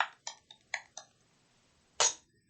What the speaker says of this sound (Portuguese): Gravar som de digitação.